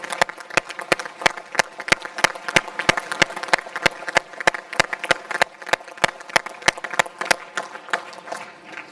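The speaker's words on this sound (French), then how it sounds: "je crois qu'on peut vous applaudir" Applause for volunteers from local associations at a municipal New Year's ceremony in a hall, heard as a steady run of sharp, evenly spaced claps, loud and close, with a faint crowd wash beneath.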